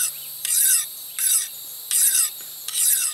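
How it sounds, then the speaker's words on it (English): Four evenly spaced rasping strokes of a sharpener drawn along a kukri-style blade, each stroke bright and scraping, close and alone with short pauses between. "then of course you sharpen it."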